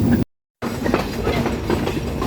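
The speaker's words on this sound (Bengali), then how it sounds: "আমরা নাটোর রেল স্টেশনে ঢুকে পড়ছি" Rupsha Express train pulling into Natore railway station in Bangladesh, a steady close rumble with faint rhythmic wheel clatter after a brief dropout at the start.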